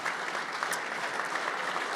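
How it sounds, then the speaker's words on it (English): Steady applause from a banquet crowd, even and sustained throughout, with no voices standing out above the clapping. "give her a nice round of applause."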